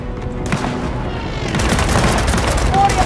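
In the Gears of War 4 campaign, a fight against enemies at a base erupts in loud, dense gunfire and booming blasts that roll on continuously while soldiers shout over the battle.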